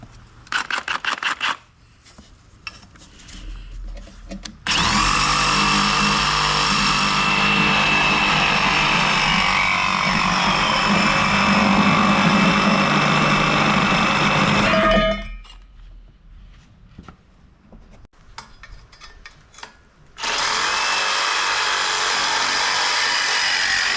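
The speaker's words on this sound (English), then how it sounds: "I'm going to cut these exhaust tubes off just because they stick out so much" A power tool cuts the exhaust tubes off a long-stored small-block Chevy engine outdoors, a loud steady grinding whine lasting about ten seconds, then a pause and a second cut starting near the end.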